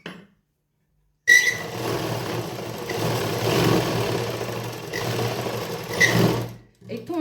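An electric sewing machine stitches a seam on a tight suit being loosened. After a brief silence it starts up with a close, steady mechanical whir and rapid needle chatter that runs for several seconds before stopping.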